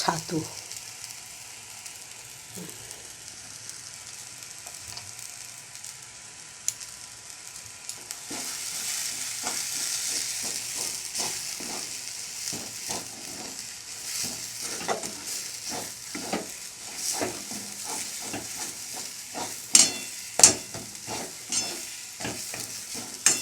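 A pea-filled paratha mixture is stirred in a frying pan, scraping and clattering in steady bursts over a continuous sizzle that grows louder partway through, with no talking.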